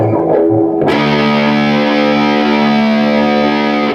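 An electric guitar played through the VvCo Afterlife pedal's modern distortion rings out loud and close: a brief muted picking, then a sustained, heavily saturated chord that holds and slowly decays across the rest of the clip.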